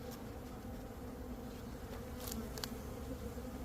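A faint, steady hum of honeybees buzzing around an opened hive during an early-season check, with a few brief clicks and handling noises, no talking.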